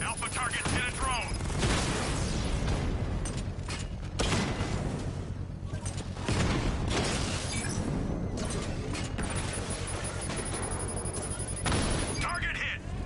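Batman destroys a drone in Arkham Knight amid dense, loud combat noise: repeated crashing, metallic shattering and creaking mechanical bursts, with voices talking throughout.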